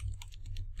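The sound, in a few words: typing on a computer keyboard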